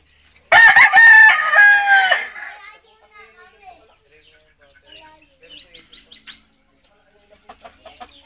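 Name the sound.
chickens, rooster crowing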